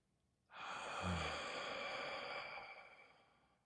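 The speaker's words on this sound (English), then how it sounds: "Now, I want to start with 3 breaths" A single slow, deep breath drawn and released during a group breathing exercise, a soft airy rush that swells and fades over about three seconds in a quiet room.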